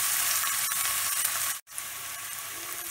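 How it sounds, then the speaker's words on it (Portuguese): Onion, ginger and garlic sautéing in oil in a pan, a loud steady sizzle with a brief stir-break near the middle, close and alone. "Em uma panela ou frigideira, adicionamos o óleo, a cebola, o gengibre e o alho e vamos refogar."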